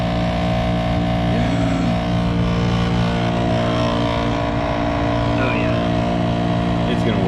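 On a 1996 Newell coach, a Dometic mini split condenser fan motor runs in a loud, constant whirring drone with steady tonal hum and rattly texture, and a person can be heard talking faintly at times.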